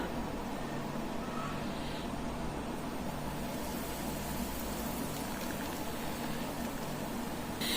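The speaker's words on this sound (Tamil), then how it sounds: "கலந்து வச்சிருக்க முட்டையை எண்ணெயில் ஊற்றிக்கலாம்" Beaten egg hits hot ghee and oil on a tawa with a steady, close sizzling hiss that holds evenly from start to finish, no voices.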